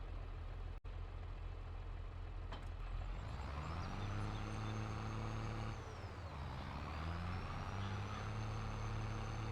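Tractor engine from Farming Simulator 22, a John Deere 4020 with 4WD, labouring uphill with a steady loud drone whose pitch rises, dips and climbs again under strain, filling the whole stretch without talk.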